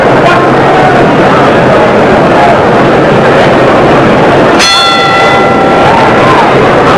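A boxing ring bell clangs once, ringing on with a sustained metallic tone, to open a round of the Ali–Liston heavyweight rematch over a steady roar of the arena crowd.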